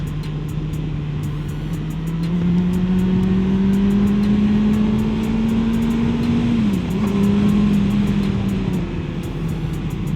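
A Kawasaki Versys 650 motorcycle rides smoothly at steady speed. Its engine hums continuously and loudly close by, its pitch rising slowly and dipping briefly midway, with no voices.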